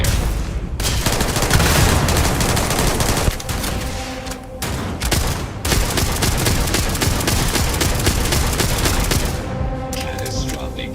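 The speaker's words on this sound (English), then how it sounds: "I am opening fire." Heavy, dense gunfire from the space game Starfield: loud sustained automatic bursts and rapid shots with a few short gaps, close and overwhelming.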